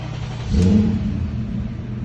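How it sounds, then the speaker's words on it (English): A BMW E39 540i's engine cranks and catches after a fuel filter change, a short rising roar that settles into a low, steady idle rumble. "so can try to start the car"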